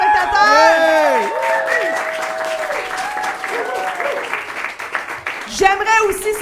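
A live podcast audience claps and cheers loudly while people whoop and shout over it, with the applause continuing steadily beneath the voices.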